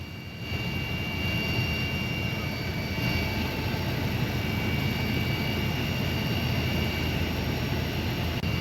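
A helicopter flying over flood-hit areas gives a steady, loud, unbroken engine and rotor roar that fills the whole stretch without a break.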